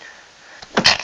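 A single sneeze bursts out near the end after a quiet stretch, preceded by a faint intake of breath, close and fairly loud.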